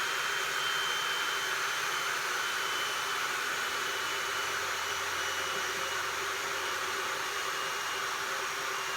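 A shut-off radial arm saw in a home workshop keeps spinning as it winds down, a steady loud whooshing hum with a sustained whine holding evenly throughout.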